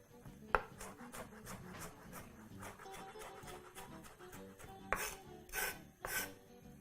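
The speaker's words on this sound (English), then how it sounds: "chop the rest of your onion, making sure to discard the root" Scattered knife taps on a cutting board while an onion is chopped for chole with naan, the soft rhythmic strikes broken by a few sharper knocks and some scraping.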